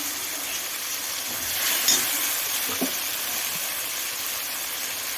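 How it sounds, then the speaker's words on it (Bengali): Spices for aloo dum fry in hot oil with a steady, close sizzle and hiss that continues throughout, with faint stirring scrapes. "তো সব মশলা আমি এখন কষতে থাকবো"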